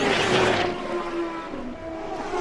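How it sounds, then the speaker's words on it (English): Dario Franchitti's CART race car braking hard into turn 1 at the Miami Grand Prix Americas street circuit, a loud, close engine note dropping in pitch over a steady roar. "Here's another look at Dario hazing the hides. Again, braking in the middle of the road, right up on top of the crown for turn 1."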